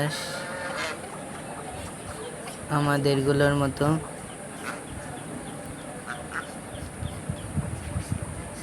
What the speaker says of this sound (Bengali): আর এখানে হলো চীন হাঁস